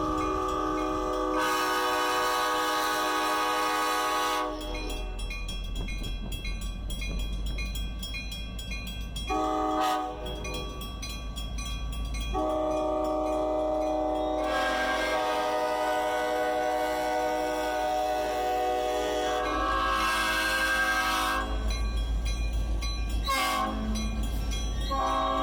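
A Royal Gorge Route Railroad passenger train sounds its horn in repeated long, loud blasts over the low rumble of the rolling train, with no talk.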